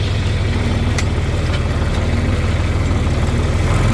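A tractor engine drones steadily in 5th gear while working a field with a 3-point implement lowered, a close, constant low rumble with faint clicks and no talk.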